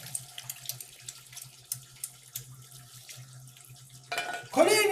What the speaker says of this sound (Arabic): خلوني اغسل يدي من الزفرة